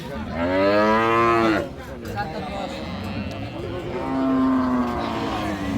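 Young bull calves at a busy livestock market moo in long, loud, close calls: one drawn-out bellow, a pause filled with background market noise, then a second, lower moo. Voices murmur underneath.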